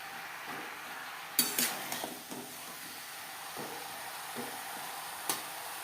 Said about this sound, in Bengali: হাই টু মিডিয়াম ফ্লেমে তিন চার মিনিট নাড়াচাড়া করে নেব